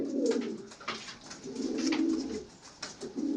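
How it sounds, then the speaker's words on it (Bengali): Pigeons of a flying breed coo softly and repeatedly at close range, a low throaty burbling with faint background noise. "প্রত্যেকটা পায়রা এগুলো ওড়াই পায়রা প্রত্যেকটাই"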